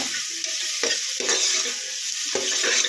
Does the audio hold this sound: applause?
no